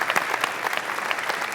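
An audience at the Unity Awards ceremony applauds, a steady wash of clapping with distinct individual claps standing out.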